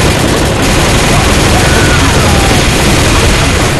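Heavy gunfire in Left 4 Dead, a loud, continuous wall of shots and blasts that stays dense and distorted throughout, with a voice briefly mixed in near the start.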